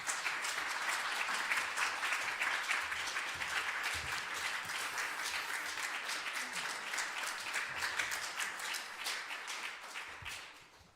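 A church congregation applauds to welcome the pastor to the pulpit for a year-end farewell sermon, a long, even round of many hands clapping that tapers off near the end.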